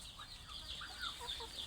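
Thai yellow native chickens clucking on a poultry farm, soft and somewhat distant, with several short calls overlapping at a low level throughout.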